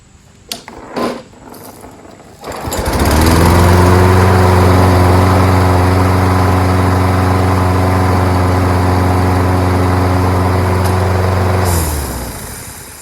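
A Toro Recycler lawn mower with a Kohler XT675 engine starts after some brief clatter. It settles into a loud, steady, close-up engine drone for several seconds and then winds down.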